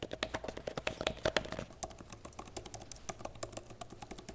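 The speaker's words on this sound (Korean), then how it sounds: "이제야 뭔가 진짜 키보드 위에서 내 손가락으로 움직이는 타이핑하는 그런 느낌?" Fingers type on an iPad Pro Magic Keyboard in a quick, close stream of soft key clicks, irregular in rhythm, with no voices.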